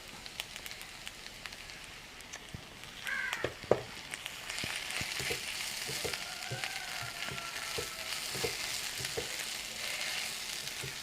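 Onions sautéing in oil in a pan for a Kerala-style fish molee, a steady close sizzle and crackle with a few clinks from stirring, no voice over it.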